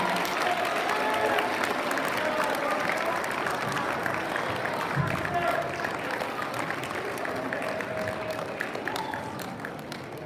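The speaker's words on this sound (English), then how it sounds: "round of applause" A crowd applauds steadily at a school awards assembly, a dense wash of clapping that stays fairly even and slowly tapers toward the end.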